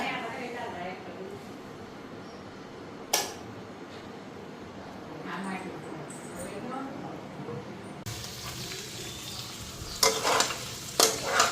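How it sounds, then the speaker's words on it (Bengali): Leftover labra mixed-vegetable curry reheats in a pan on a home stove, with a low steady sizzle, occasional clinks of a stirring spoon and louder scraping clatter near the end. "ওইদিকে তরকারিটা গরম বসাইয়ে দিলাম। এটা কালকের লাবড়া তরকারিটা ছিল।"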